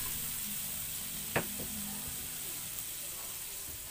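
Onions frying in a pan for carbonara give a steady low sizzle, with one sharp utensil knock partway through.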